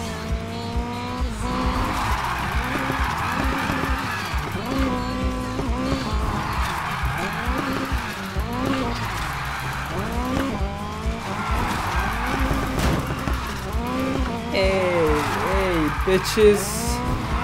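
A 1,000 HP Mazda RX7 drift build in Need for Speed Heat screams through repeated slides, its engine revving and falling in waves under steady, loud tire squeal, with a voice talking over it briefly.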